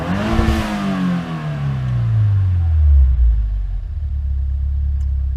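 A 2015 Subaru WRX engine with a blow-off valve revs loudly up to about 6,500 rpm, then its pitch sinks steadily as the revs drop back to a low, rumbling idle, heard up close with no one talking.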